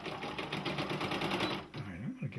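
A Brother embroidery machine stitching in quick, even mechanical chatter close by, which then stops briefly as it makes a jump stitch, followed by a short whirring shift.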